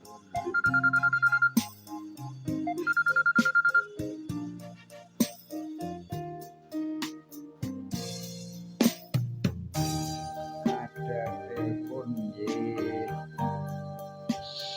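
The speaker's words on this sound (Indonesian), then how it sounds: "Ada telepon Mbak Warso? Kita angkat dulu." A telephone rings for an incoming call, two electronic ringtone bursts near the start, then music and clattering sounds continue beneath for the rest.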